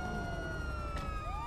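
A police car siren in the video game GTA wails with a sweeping, falling-and-rising pitch over a steady rumble of background noise.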